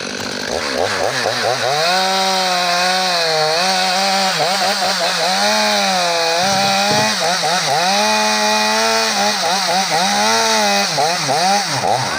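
A chainsaw cuts through a standing white pine during felling, its loud engine droning steadily and rising and falling in pitch as the bar works into the kerf for the whole stretch.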